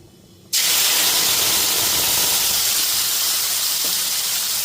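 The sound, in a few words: ginger, tomato and green chili paste frying in a pan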